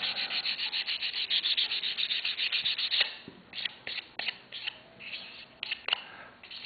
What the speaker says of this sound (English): I'm using 220 sandpaper.